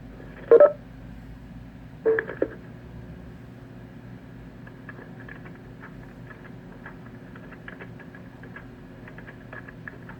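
Two short electronic tone bursts from a phone conference line signal someone joining, the second a pair of quick beeps, over a faint steady hum with no one talking.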